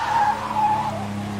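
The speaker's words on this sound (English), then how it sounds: "There's a Ford Zephyr, Sutcliffe and Dixon in command." A Ford Zephyr rally car skids on a closed road, a loud continuous screech of tyres over a steady engine drone lasting the whole moment.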